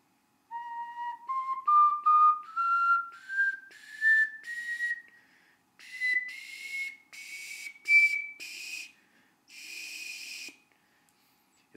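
Glazed ceramic ocarina played in a rising scale of pure, breathy whistle-like notes, then a few sustained higher tones, close and clear with short pauses between phrases and no talking.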